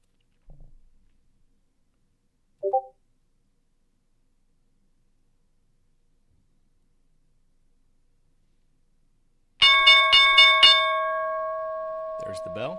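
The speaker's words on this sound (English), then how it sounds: "There's the bell." Stock market opening bell rings out after near silence, a bright metallic clanging struck several times in quick succession, then a long sustained ring fading away; a couple of faint brief sounds come earlier.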